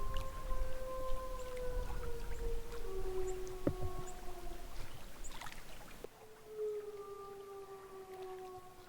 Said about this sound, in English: but the wolves are howling.